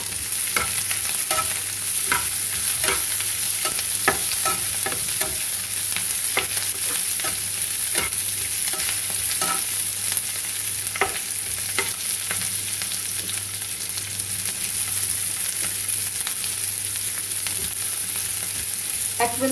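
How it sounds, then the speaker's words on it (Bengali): Capsicum frying in a pan for a ginger mushroom dish, a continuous close sizzle broken by repeated scraping stir strokes at a regular pace. "ক্যাপসিকামটা অ্যাড করে দিলাম।"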